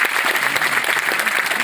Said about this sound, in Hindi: जोरदार ताली होनी चाहिए इस बात के लिए